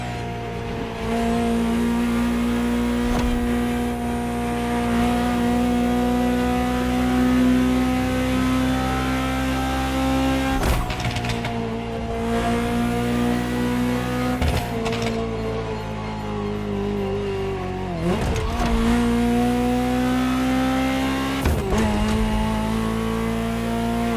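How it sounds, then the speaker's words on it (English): A Ferrari supercar from the 1984 Geneva Motor Show, driven in The Crew Motorfest video game: a loud, continuous engine roar holds high revs, broken by quick gear-shift dips and re-climbs at several points, with no voices. "Just listen to the car you're driving."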